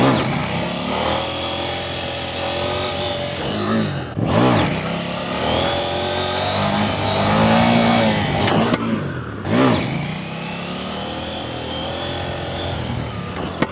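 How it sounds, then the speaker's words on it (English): KTM 790 Duke motorcycle accelerating hard in first gear for a wheelie, a loud close engine revving up through rising pitch sweeps with two sharp throttle dips and recoveries, no talking. "This was my first gear wheelie on KTM 790 Duke."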